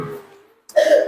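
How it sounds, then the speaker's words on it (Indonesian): A single short, sharp cough bursts out after a brief voiced sound and a pause, close and fairly loud. "Saking gemetarnya sampai batuk-batuk ini."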